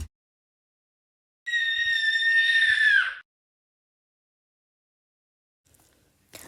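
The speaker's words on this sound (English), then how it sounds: "Then she screamed." A girl screams loudly in a sustained, high-pitched burst lasting nearly two seconds, alone in near silence, before falling quiet; a few faint soft sounds follow.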